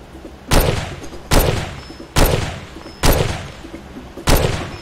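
Gunfire in the video game Far Cry 2: five loud, heavy shots ring out at a regular, evenly spaced pace, each with a short decaying tail, and no one speaks.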